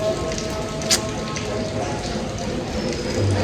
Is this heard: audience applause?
no